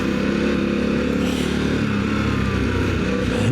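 A Harley-Davidson CVO Pan America motorcycle being ridden, its engine a loud, steady, close drone with a slight swell in revs near the end and rushing wind mixed in; no speech.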